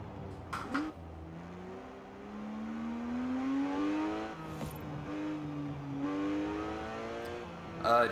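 A Porsche 911 GT3 RS 4.0 engine in the video game Forza Horizon 4 revs and drops repeatedly, its pitch climbing and falling in smooth sweeps, with brief sharp noises at the start and end.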